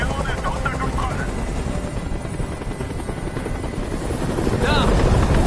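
A helicopter in a video game thunders with a dense, steady rotor roar that swells louder toward the end, a voice speaking over it.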